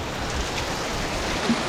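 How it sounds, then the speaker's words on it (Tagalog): Rain falling at a river in Nagcarlan, Laguna makes a soft, even hiss of drops and flowing water, steady and fairly faint throughout. "Yan, inabot na kami ng ulan."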